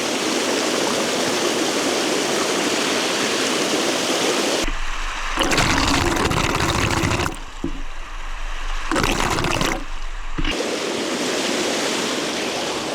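River white water rushes loud and steady, broken by muffled underwater stretches where the roar drops to a dull churn before the full surface rush returns.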